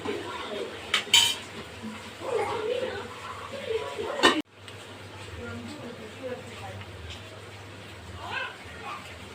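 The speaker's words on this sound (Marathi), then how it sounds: "हे डवळत राहायचं नाहीतर काय होतं नारळाचं दूध आहे ते फाटण्याची शक्यता जास्त असते" A spoon scrapes and clinks against a pot while chicken curry simmering in coconut milk is stirred, a few close metallic knocks and scrapes over a soft bubbling bed, with a voice talking quietly in the background.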